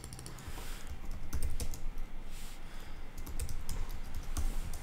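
Fast, steady typing on a computer keyboard while text is entered in a UI design tool: a close, continuous patter of key clicks with small bursts of louder taps.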